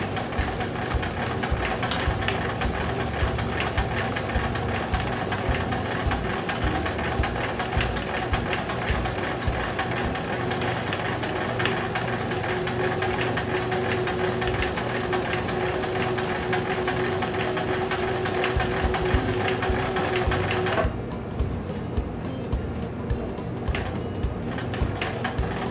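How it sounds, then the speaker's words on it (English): A sewing machine stitches a small doll blouse with a steady, fast mechanical whir and rapid needle chatter close by, running continuously before stopping abruptly near the end. "If you go too fast with your machine, you will get off the edge"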